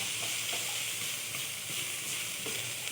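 Beef sautéing in a pan with garlic and onion, a continuous broad sizzle with faint stirring scrapes, close and steady with no talking.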